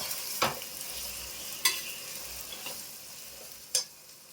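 Ingredients stirred in a hot cooking pan, a low background sizzle broken by three sharp scraping strokes of a spoon against the pan, close and clear with no talking.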